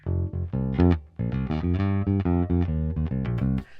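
A reggae outro bass pattern plays a short run of plucked notes, resting on the first beat of each bar, loud and close with no talk over it.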